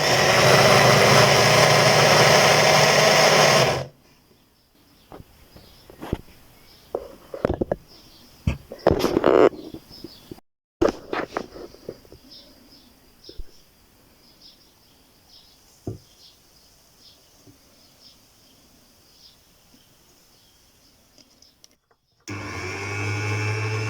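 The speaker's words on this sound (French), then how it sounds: "Donc je vais passer au mixeur." A kitchen blender whirs loudly as it mixes carp fishing bait dough made with flour, in a roaring burst at the start and another near the end, with quieter clattering and handling noises between.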